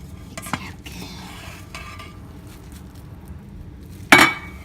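A spoon scrapes and stirs seafood paella in a pot cooked in a solar oven, making soft, intermittent strokes that end in one sharp clink against the pot.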